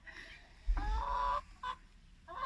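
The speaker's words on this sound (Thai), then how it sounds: "ตรงนู้นก็เป็ดนะคะเป็ดนะคะ" Domestic ducks kept beside a house quack in two short bursts, a loud honking call followed by briefer ones after a pause, fairly close and with no one speaking.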